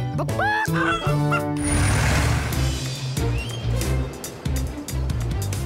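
An animated puppy character imitates chicken sounds, with rising squawky clucks at the start followed by a loud, steady rumble of vehicles and scattered voices underneath.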